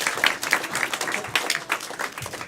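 Audience clapping at a live show, a steady patter of many hands sustained for a couple of seconds with uneven bursts, fairly close and fairly loud.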